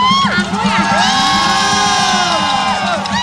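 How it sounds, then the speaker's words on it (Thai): A packed crowd of supporters at a live regional contest in northeastern Thailand cheers and screams continuously, loud and close, with high whoops and shouts rising over the din and a voice briefly audible within it. "กองเชียร์เขาเต็มมากเลยนะ"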